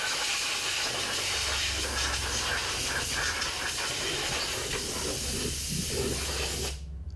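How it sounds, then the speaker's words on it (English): Compressed air hisses steadily from an air gun blowing debris off the ignition coils of a BMW 3 Series, a loud continuous spray that cuts off abruptly near the end. "Now use an air gun and blow off the coils"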